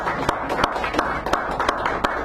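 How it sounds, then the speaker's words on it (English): Audience applause at a poetry open mic in a San Francisco café, a steady wash of clapping with sharper individual claps popping out, fairly close and continuous throughout. "Give her a nice round of applause and warm it up here."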